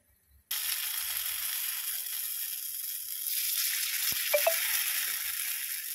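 Paddu batter hitting hot oil in an appe pan on a gas stove, setting off a steady, fairly quiet hiss and sizzle that keeps going, with a couple of small clicks partway through.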